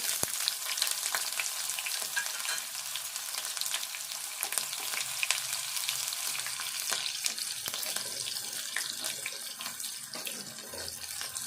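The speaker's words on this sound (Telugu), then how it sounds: "ఇప్పుడు ఈ ఉల్లిపాయ వేసుకుందాము" Chopped onion fries in hot oil with mustard seeds, chana dal and dried red chillies for a ridge gourd and moong dal curry, a continuous dense hissing sizzle with faint crackles throughout.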